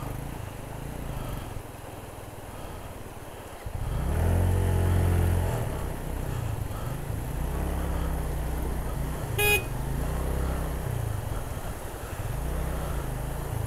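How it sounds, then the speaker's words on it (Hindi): A vehicle horn on a rough mountain track in Azad Kashmir sounds steadily on its own, a long continuous tone over the engine rumble with no talking. "हॉर्न नहीं दे रहा, खुद ब खुद बाज रहा हॉर्न।"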